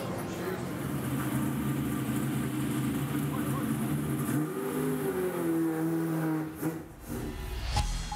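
A race car, driven by David Reynolds, accelerates through its lap with an engine note that climbs and shifts in pitch, heard moderately loud from onboard, ending with a brief dip.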